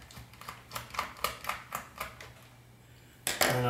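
A screwdriver working loose a keyboard screw on a laptop: a string of light, evenly spaced clicks and ticks, followed by a short pause and then a louder clattering burst at the end.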